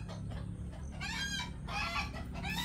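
Chickens near their nest on a farm, clucking and squawking in overlapping calls close by, with a few louder bursts over steady background noise.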